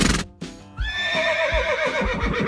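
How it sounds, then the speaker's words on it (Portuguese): A horse neighs loudly and close by, a long shrill whinny that rises and then wavers downward, with a few dull thuds before it, alone with no talk. "Cavalo."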